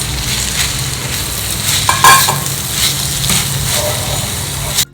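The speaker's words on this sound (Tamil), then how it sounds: "இப்போ கட் பண்ணி வச்சிருக்கிற பருப்பு கீரையை சேர்த்துடலாம்" Cut spinach is stirred into sautéed tomato and onion, giving a loud, continuous sizzle and frying with scraping stirs throughout and a sharp clank at the end.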